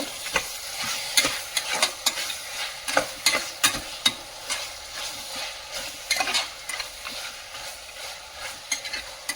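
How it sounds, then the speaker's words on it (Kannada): Ground spices and turmeric powder are stirred in a pan for mutton biryani, with repeated scraping strokes of the spoon against the metal over a light sizzle, close and fairly loud. "ಮತ್ತೆ ಅರಿಶಿಣದ ಪುಡಿ, ಎಲ್ಲವನ್ನು ಮಿಶ್ರಣ ಮಾಡಬೇಕು."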